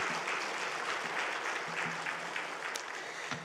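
A church congregation applauds at a men's fellowship dedication service, a steady, dense wash of clapping from many hands that carries on unbroken and evenly loud from start to finish, with no talk over it.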